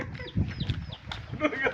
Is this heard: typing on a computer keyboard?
no